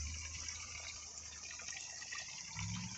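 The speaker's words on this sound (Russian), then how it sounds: "Говорят, сероводородная минеральная вода." Hydrogen sulfide mineral spring water near Sochi flowing in a steady, faint gush, a continuous rushing wash of liquid with no voices.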